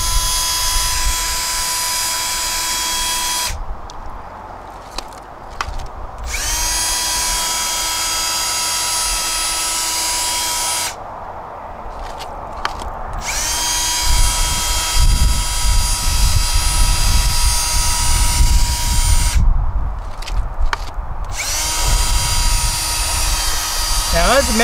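A motorized spinning machine whirs steadily while pulling magnetite from mineral-bearing dirt during gold recovery, a loud continuous drone with a few abrupt stops and restarts.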